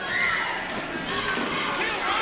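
A steady, loud crowd roar fills an Urbana High School basketball gym during a 1981-82 game, with a voice speaking over the cheering.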